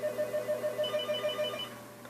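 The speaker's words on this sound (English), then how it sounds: "Oh, my phone is ringing." A mobile phone rings with a repeating electronic tone in a steady pulsing pattern, moderately loud and close, with a higher chirping layer joining midway; no talking.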